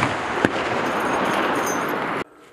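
An M2 heavy machine gun firing at targets during a live fire event, a sharp report followed by a dense sustained rattle of rapid fire that cuts off abruptly.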